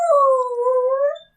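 A pet dog howls in one sustained, wavering cry close by, triggered by passing sirens; the howl holds steady then tails off into silence.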